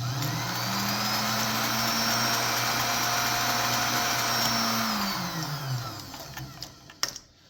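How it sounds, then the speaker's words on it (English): A sewing machine runs at a steady high speed, stitching around the hairband of a bonnet, a loud continuous motor whir that holds for several seconds before winding down and stopping with a few clicks. "We're going over the stitching because the stitching is very weak."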